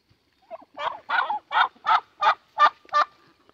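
Chickens on a small farm in the woods give a run of seven loud, evenly spaced squawking calls, close by, with no talk over them.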